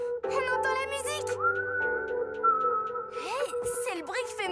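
Tuneful whistling from a person, clear and close, with sustained pitched notes and quick sliding swoops, layered over a light musical backing.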